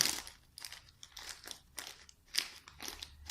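Damp clay slab draped over a form and tucked and folded by hand, a series of soft crinkling, squishing presses in irregular bursts, close and clear with no voices.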